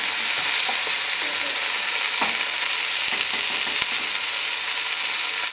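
Meat browning in a soup pot for vegetable soup, a dense continuous sizzle and crackle of frying with occasional scrapes and clinks of a utensil against the pot.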